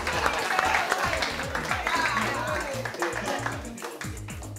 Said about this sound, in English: let's obviously give Mason a massive round of applause for coming today